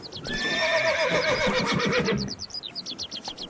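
A horse in The Witcher 3: Blood and Wine whinnies loudly for about two seconds, then steady clip-clopping hooves take over, close and clear, with no talking.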